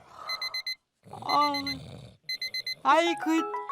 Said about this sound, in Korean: 알람 좀 꺼봐 좀.